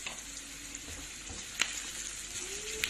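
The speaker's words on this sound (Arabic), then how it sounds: "حطيت البصل اهو يتحمر" Onions frying in a pan for Egyptian koshari, a quiet, continuous sizzle with a couple of sharp little pops and faint clinks over the steady hiss.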